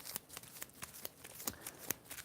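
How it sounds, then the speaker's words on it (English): A deck of game cards is shuffled during a tabletop wargame session, a quick run of soft, crisp riffling flicks repeating close by at low volume. "I've got a shuffle."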